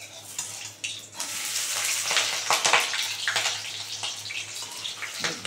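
Paneer cubes fry in hot oil until reddish for paneer manchurian, giving a close, continuous sizzle with bursts of crackling and occasional stirring.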